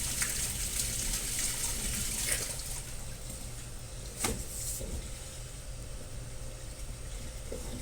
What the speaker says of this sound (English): Empties in from there. That comes from the mop sink there.